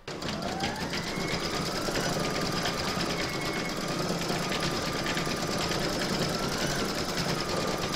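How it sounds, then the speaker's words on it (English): An embroidery sewing machine stitches a quilting outline on an in-the-hoop heart banner, a fast continuous mechanical whirring and ticking that runs steadily throughout with no speech. "Load whichever colour thread you want into your machine for the quilting, and then you're going to stitch round number 4."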